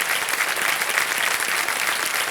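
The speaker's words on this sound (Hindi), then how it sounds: "ताली बज जानी चाहिए इनके लिए" A studio audience on the Kaun Banega Crorepati game show claps loudly and steadily, a dense, even wash of applause filling the room with no voices over it.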